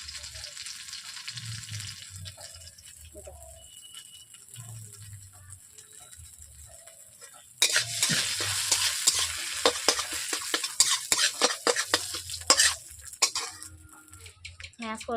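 Mashed potato filling for aloo paratha, salted, is stirred in a wok over a stove; a soft sizzle gives way midway to brisk, repeated scraping strokes of a spatula against the metal, loud and close.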